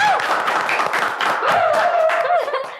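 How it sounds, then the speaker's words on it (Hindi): A studio audience gives a short burst of clapping to welcome a guest on a talk show, mixed with some chuckling and a voice talking over it. "तालियां बजाओ"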